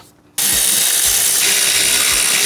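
A ratchet clicks in quick, loud bursts while the brake caliper of a car is bolted back on, starting abruptly after a brief quiet moment and running steadily to the end.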